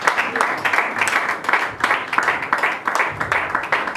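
Congregation clapping in a church service, a dense, steady patter of many hands filling the room, with voices mixed in underneath.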